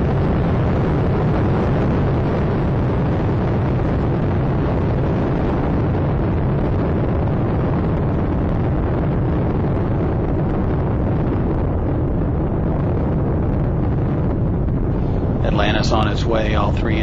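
Space Shuttle Atlantis lifting off on its three main engines, heard as a steady, broadband rumbling roar from a distance. The roar stays even throughout, with a brief burst of voice near the end.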